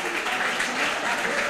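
A crowd at an athletes' awards ceremony claps steadily throughout, a dense wash of applause with no break.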